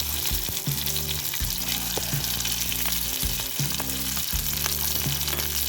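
Shallots, dried red chilies and curry leaves crackle and sizzle loudly in hot oil, with a steady frying hiss and a few stirring scrapes of a utensil against the pan.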